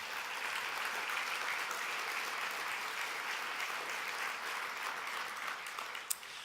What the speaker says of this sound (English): Could we give a round of applause for all of our sponsors this evening?